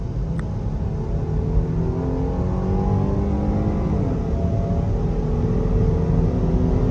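A Jeep Grand Cherokee L Overland accelerating on the road from about 30 mph, engine rising in pitch under loud steady road and wind roar heard from inside the cabin, with no talking.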